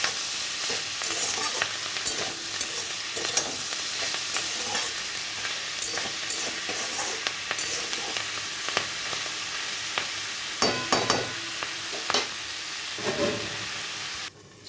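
Prawns and spring onion stalks sauté with salt and turmeric, a continuous close sizzle broken by repeated scraping stirs and spatula knocks, louder toward the end.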